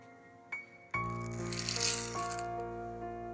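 Dry chana dal is poured into a measuring bowl, a brief rattle and then a louder sustained clattering of hard lentils striking the bowl, close and clear.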